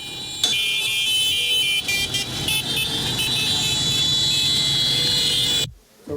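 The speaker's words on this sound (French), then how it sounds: "accueilli dans un concert de sons et de klaxons" Many car horns blare together in a loud, continuous honking chorus greeting a political leader arriving in Burkina Faso, with overlapping tones from several vehicles, ending abruptly.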